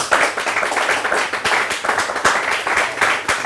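Students in a television talk-show studio audience clapping, a close, loud, continuous patter of many hands with fairly even rhythm and no talk over it.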